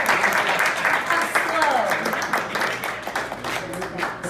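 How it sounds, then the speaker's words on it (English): Audience clapping at a symposium as an honoree walks up to the stage, a sustained patter of many hands at moderate loudness, with voices mingling in the room throughout. "You're supposed to clap till they get up here now."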